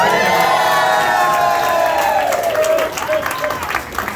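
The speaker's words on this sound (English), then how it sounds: "Round of applause." Fundraiser crowd at a Trump impersonator's event cheering and applauding loudly, with whoops and shouting voices mixed into a sustained roar that runs the full length.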